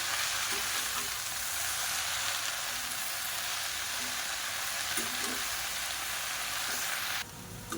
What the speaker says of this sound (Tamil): இப்போ இது கூடவே ஒரு கைப்பிடி அளவுக்கு மல்லி இலையும் சேர்த்து நல்லா வதக்கிக்கலாம்